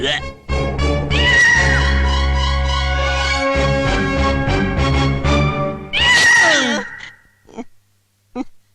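A person loudly imitates a cat, drawn-out wailing meows with shifting pitch, followed by a shorter strained meow and brief breathy sounds.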